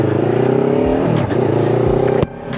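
Motorcycle engine revving hard in repeated rising pulls, loud and close, with pitch climbing then dropping between throttle blips before settling to a lower idle near the end.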